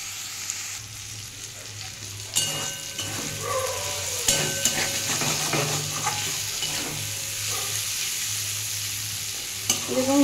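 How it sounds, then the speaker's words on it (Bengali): Vegetables fry in a pan with a steady sizzle while a spoon or spatula scrapes and stirs, giving repeated clattering strokes across about ten seconds of continuous cooking noise. "এটা একটু ভালো করে ভেজে নেব"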